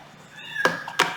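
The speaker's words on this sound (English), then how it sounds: "I apologize if you can hear my cat in the background." A cat lets out a short, rising meow at close range, followed by two soft thumps.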